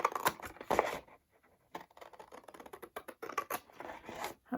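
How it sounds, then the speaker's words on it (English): Scissors snip and scrape through paper card along a line for a pop-up card, in bursts of close crisp cutting with short pauses between them. "and then cut along the line"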